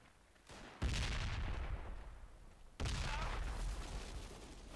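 Gunfire in the Project Reality military shooter on the Brecourt Assault map, two heavy booming bursts of shots close by, each sustained and rolling for a couple of seconds before the next.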